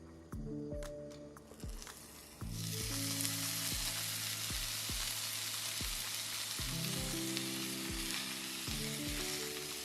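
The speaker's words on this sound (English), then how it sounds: "place a pan over medium-high heat and press your pork belly into the pan for maximum coverage" Pork belly sears in a pan over medium-high heat, a steady close sizzle and crackle of frying fat, with a few soft clinks and taps early on as it is pressed down.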